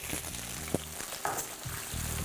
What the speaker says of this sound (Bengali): আর তেলটা একবার গরম হয়ে গেলে আমি এখানে দিয়ে দেবো কেটে রাখা আলু।